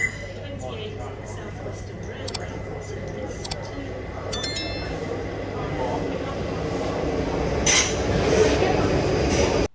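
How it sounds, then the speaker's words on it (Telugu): A train pulls into a London station with a low steady rumble and rising rush, along with faint metallic clinks and a high squeal, while a person speaks over it. "అమ్మో, ట్రైన్ వచ్చేసింది."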